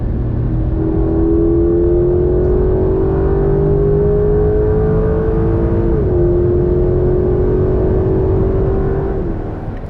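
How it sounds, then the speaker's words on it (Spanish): A Porsche 911 GTS hybrid accelerates hard, its engine note climbing steadily, loud and close, with a brief dip near the end as it shifts gear. "una inmediatez a la hora de pisar el acelerador y obtener la potencia deseada"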